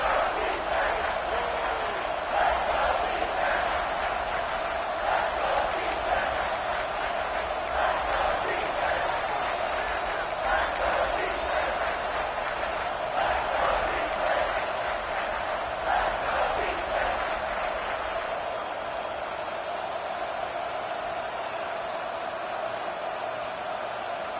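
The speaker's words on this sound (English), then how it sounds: "This crowd is trying to inspire this defense to make a big red zone stop" A large college football stadium crowd at a USC vs Texas game roars steadily before a red zone play, a dense wash of cheering and shouting sustained throughout, with no clear individual voices.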